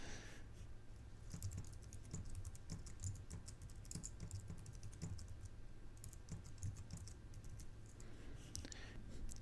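A password is typed on a computer keyboard in a steady run of quiet, rapid key clicks that continues without pause.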